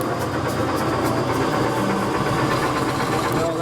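A tractor-style ride vehicle at a theme park farm attraction rumbles steadily with a continuous idling engine drone and some vibration, loud and close throughout with no clear speech.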